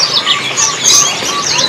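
A caged songbird at a bird kiosk sings bright, rapid chirps and trills, close and loud, in a short continuous burst with no talk.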